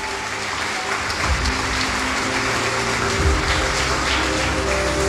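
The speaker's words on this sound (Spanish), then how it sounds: "Aplaudile fuerte." Loud, continuous applause from a church congregation during a sermon, a dense wash of clapping that swells slightly around the middle and holds steady, with a low hum of organ or room noise underneath.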